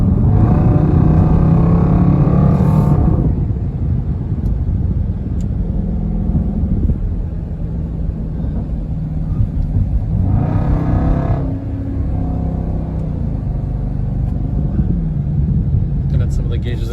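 Dodge Durango SRT engine heard from inside the cabin while driving hard, a loud, steady low rumble with rising revs early on and surges in the middle, continuing throughout.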